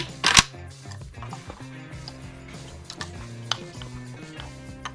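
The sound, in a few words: Yugo Zastava AK rifle trigger being pulled, clicking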